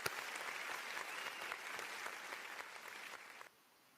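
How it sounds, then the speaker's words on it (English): Canned applause from a soundboard button plays as a dense wash of clapping at moderate volume for about three and a half seconds, then cuts off abruptly to quiet. "the applause button gives me some issues here"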